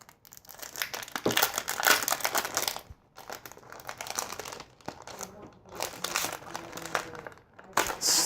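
Paper packaging inside a phone case box crinkles and rustles in bursts while being handled during unboxing, with brief pauses between handfuls and a voice speaking over parts of it.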